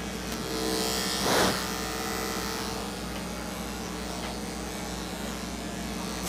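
Electric clippers shaving the matted coat of a Saint Berdoodle, a steady close buzz throughout with a brief louder surge near the start.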